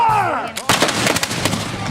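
A cannon fires on a beach at Cedar Key during a pirate invasion event, one sharp, loud blast that rumbles and crackles as it decays, following a whistling, sliding tone.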